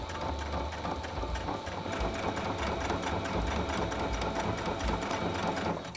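A home sewing machine stitches fabric for a skirt, its motor whirring in a steady, fast, continuous mechanical rhythm throughout, close and fairly loud with no talking.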